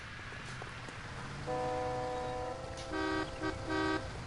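Car horns honking in a street, first one sustained blare, then several overlapping short and long toots from more than one horn, fairly distant over rain-like traffic noise.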